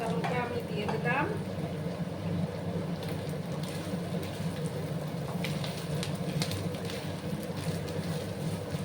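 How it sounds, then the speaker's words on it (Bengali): Mackerel curry masala with green chillies sautés in a pan, a steady low sizzle and crackle running throughout, with a few stirring scrapes near the start. "একটু সময় আমি এটাকে কষিয়ে নেব।"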